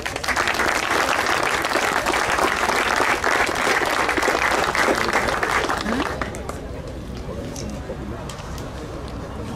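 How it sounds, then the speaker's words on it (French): An audience at a prize-giving ceremony in Wattrelos applauds a first-time exhibitor. Dense, loud clapping runs for about six seconds, then drops to a quieter murmur with scattered claps and voices. "Vous pouvez l'applaudir."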